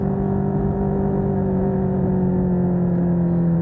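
A CFMoto 300NK motorcycle hums at a steady engine pitch while being ridden, freshly after an oil change, a constant close drone with low rumble and no change in revs.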